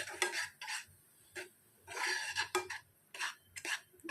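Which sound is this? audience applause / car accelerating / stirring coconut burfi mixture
stirring coconut burfi mixture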